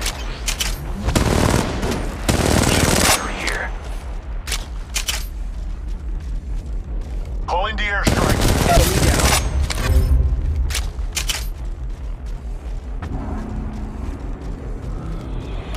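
Rapid automatic gunfire during a firefight in the battle royale video game Apex Legends, loud sustained bursts with mechanical reload clicks and weapon handling sounds between volleys.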